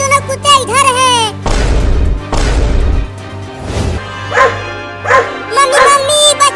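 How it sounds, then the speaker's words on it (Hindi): Two dogs bark and yip in a comedy sketch, with loud barking bursts interleaved with excited, shouting voices. "दोनों कुत्ते इधर हैं।"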